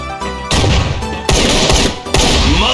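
A Holy Shotgun Gold fires in the Crossfire shooter game: three loud, booming blasts about three-quarters of a second apart, each with a reverberant tail, close and alone with no talk.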